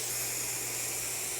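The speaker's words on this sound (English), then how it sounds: "Just spray it all over." A steady, close hiss of spray adhesive being applied to an Alcantara headliner in a BMW E31 runs throughout with no break and no voices.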